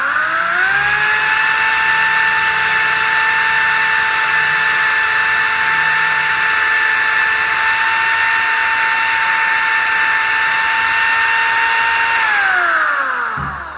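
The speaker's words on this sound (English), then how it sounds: "drill a quick pilot hole" A power drill whirs steadily at high speed for several seconds drilling a pilot hole in a wooden canvas frame, its pitch holding even before winding down at the end.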